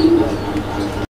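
Pigeons at a pigeon farm, including Bombay-type birds, give a brief, close, low coo over a soft background hum.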